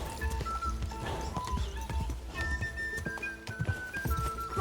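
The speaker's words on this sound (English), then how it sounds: "Watch out for that horse." Horse hooves clip-clop in rapid, uneven beats in the medieval video game Kingdom Come: Deliverance II, close and moderately loud over scattered background game sounds.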